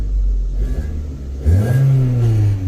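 A 2.0L Volkswagen Jetta engine with a misfire idles roughly, then is revved up with a rising, loud engine roar heard up close.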